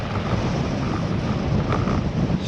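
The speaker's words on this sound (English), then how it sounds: "Strong wind." Strong wind buffets the microphone during a bike ride, a steady loud roar rumbling without a break the whole time.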